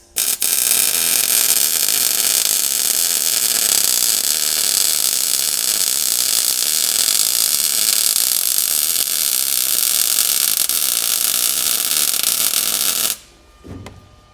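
A hot welding arc snaps and crackles continuously for about thirteen seconds, a loud, steady, hissing buzz up close while a rear shock part on a 1937 Lincoln Zephyr is welded, then cuts off abruptly into near silence.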